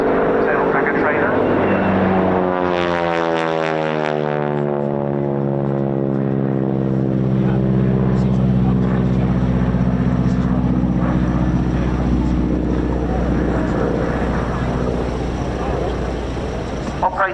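A tail-dragger trainer aircraft at the RAF Cosford air show: a loud, continuous propeller drone with a strong falling pitch sweep as it passes close by, then a steady engine roar over crowd background.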